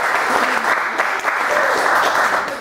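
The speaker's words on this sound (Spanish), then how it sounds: "un aplauso para Jorge" A seminar crowd gives Jorge a sustained round of clapping, thick and even throughout, heard up close with no voices over it.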